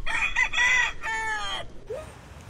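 A rooster crows once, a loud, close, drawn-out cock-a-doodle-doo in several rising and falling segments, followed by a short upward cluck as it ends.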